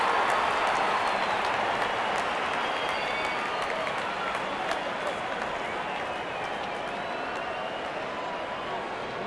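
Crowd at Eden Gardens in Kolkata during an IPL cricket match between PBKS and KKR: a dense, sustained roar of cheering and applause filling the stadium, with a commentator's voice underneath.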